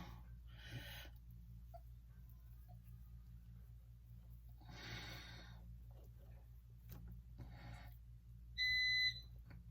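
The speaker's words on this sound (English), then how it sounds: "That thing keeps beeping from Verizon." A short electronic beep from a Verizon device sounds near the end over a low steady hum, with faint rustling bursts earlier.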